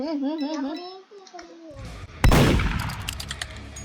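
A gunshot in the Roblox game Murder Mystery 2 bursts out loud and sharp after a child's sing-song voice, then trails into a noisy, crackling tail.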